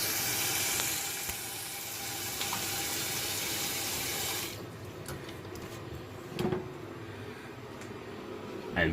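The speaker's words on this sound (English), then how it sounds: "Fill it with water again." Tap water pours steadily and loudly into a pot of drained orange peels for about four seconds, then shuts off, leaving a quiet room with a couple of faint clinks.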